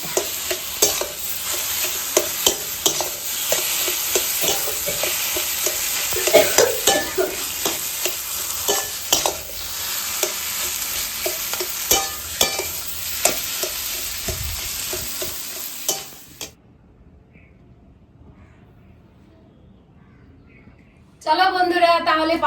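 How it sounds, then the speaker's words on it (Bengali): Onion sizzles in hot oil tempered with dried red chillies, a loud steady crackle with stirring clicks for most of the stretch, then it drops to near silence before the frying noise returns. "আর পেঁয়াজ দিয়ে দিলাম।"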